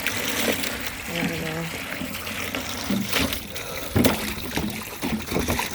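Rainwater is poured into a garden boot wash, making a steady trickling and splashing close by at a moderate level, with a few louder sloshes.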